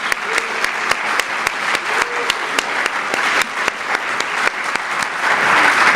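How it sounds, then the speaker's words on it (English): Audience applause thanking contest organizers in a room, a steady wash of clapping with sharp individual claps standing out, sustained and fairly loud throughout, swelling slightly at the end. "let's hear a great thank you for Ken and Jenny."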